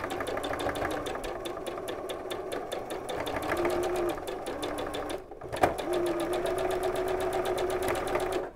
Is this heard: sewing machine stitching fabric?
yes